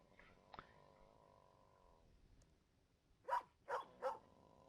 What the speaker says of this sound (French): nous avons le petit chien en arrière qui jappe